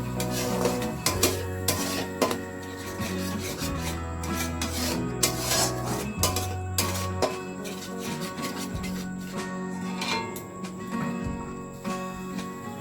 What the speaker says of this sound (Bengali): এবার এটা দিয়ে ভালো করে মশলাটাকে কষে নেব।